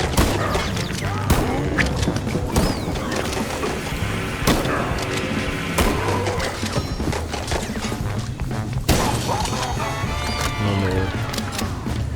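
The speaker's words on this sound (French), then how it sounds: "Tire dans la tête à bout portant avec un fusil à pompe" Pump shotgun blasts fired point-blank in a video game, loud booming shots and crashing impacts amid chaotic game action and mechanical clatter, heard alone without talk.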